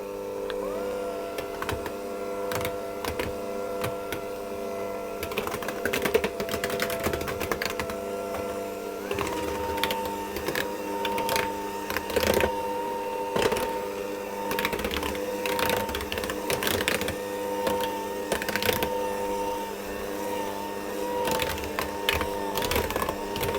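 An electric mixer runs on slow speed, mixing flour into wet cookie dough for chewy oat cowboy cookies, a steady motor whir with repeated clicking and tapping of beaters against the bowl.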